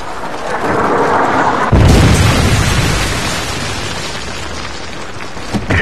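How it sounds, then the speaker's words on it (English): A heavy missile strike explodes in Call of Duty: Modern Warfare 3, a deep loud boom that bursts suddenly and rumbles on with a long roaring decay. "Missile inbound."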